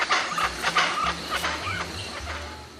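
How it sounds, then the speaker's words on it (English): Chachalacas in a Maya-region forest give a loud, raucous chorus of repeated clucking, cackling calls, several birds overlapping in bursts close by. "Their call sounds like they're saying, "No hay cacao, no hay cacao.""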